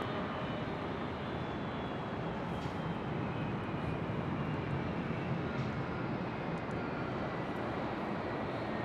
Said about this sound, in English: We'll have a departure back to Amsterdam on 24 left coming up.